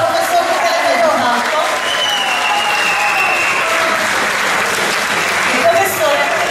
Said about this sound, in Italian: Un applauso al professor Michele Caglione.